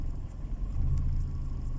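Manual car pulling away uphill as the clutch is released during a driving school lesson, a brief low engine rumble that swells slightly, heard from inside the car.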